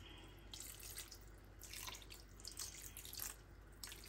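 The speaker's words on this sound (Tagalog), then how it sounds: "Dagdagan natin yung tubig" Water splashes and trickles faintly, poured in uneven bursts into a pot of crab cooking in coconut milk, quiet and close with no talking.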